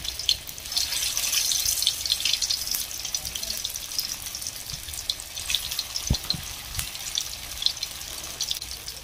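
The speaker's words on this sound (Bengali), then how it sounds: "তেল গরম করতে দিয়ে দিয়েছি, যেখানে আমি সেই সয়াবিনগুলো ছেড়ে দেব আর আস্তে আস্তে করে ভেজে নেব" Soybean chunks fry in hot oil with a steady crackling sizzle, close by, with a few louder pops and light clatter near the end.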